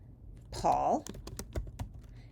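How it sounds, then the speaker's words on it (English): Computer keyboard typing in a quiet room: a brief voice sound, then a quick run of separate, light key clicks over about a second and a half. "I'm going to type Paul,"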